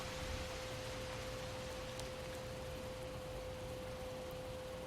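Steady, soft hiss of rain falling in the Project Zomboid video game, a faint, even wash of noise with no breaks, beneath a thin constant hum.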